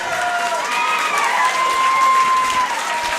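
A crowd at an MMA championship event at the Riverfront Radisson gives a standing ovation, steady loud applause and cheering, with a commentator's voice and whistles running over it.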